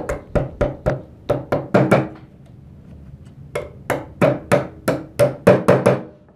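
A hammer strikes a hook through fabric while a pair of women's narrow pants with a side zip is stitched: two close bursts of sharp, rhythmic knocks, six quick blows, a short pause, then about eight more, loud and without speech.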